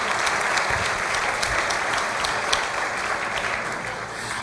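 Church congregation giving Jesus a strong round of applause during a sermon, steady dense clapping from many hands sustained throughout, loud and even with no voices on top.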